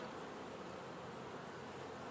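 Honeybees buzz at an open hive during an autumn inspection of a colony with mites, a faint, steady, dense drone with no pauses and no talk.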